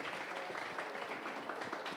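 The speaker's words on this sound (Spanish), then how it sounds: "Un aplauso." Brief applause after a presentation at a national dialogue forum, a soft, steady patter of clapping heard at some distance, with no talk over it.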